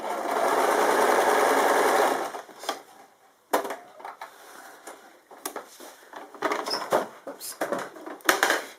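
A sewing machine runs a steady burst of stitches through quilt binding, blue thread on aubergine fabric, for about two seconds, then falls to quieter scattered handling clicks and rustles.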